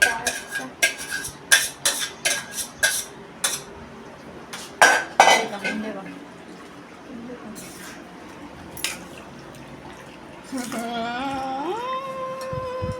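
Pasta goes into a pan for a white creamy pasta with chilli flakes and oregano, with a quick series of sharp metal clinks from pots and cutlery close by, then a quieter stretch and a brief voice near the end.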